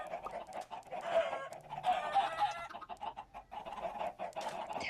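Several chickens cluck and murmur close by, with irregular overlapping calls and a few sharper squawks, in a quiet setting without talk.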